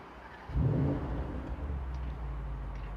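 A 2023 Mercedes-AMG SL 63 engine fires up with a sudden throaty rev, then settles into a loud, deep, steady idle rumble.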